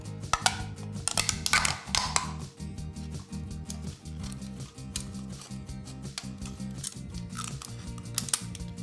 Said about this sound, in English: we're gonna grab our scissors and we're gonna cut our two cups